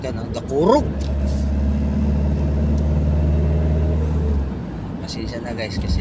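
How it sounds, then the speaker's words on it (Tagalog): Noisy car engine grinding and droning like a rice mill, heard from inside the vehicle on a drive toward Alabang, a steady low rumble with a rising tonal whine, close and loud while people talk. "maingay yung sasakyan natin. Parang gilingan ng palay."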